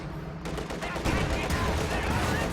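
Battle gunfire in Company of Heroes 2, a dense, continuous spread of shots and bursts from a tank and infantry skirmish, steady and fairly loud throughout with no pauses.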